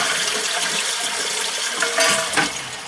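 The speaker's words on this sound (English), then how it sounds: "We'll flush it and we'll check it again." A household toilet with a slow leak and loose handle flushes, a loud continuous rush and gurgle of water draining from the tank and bowl, close by, with no talk.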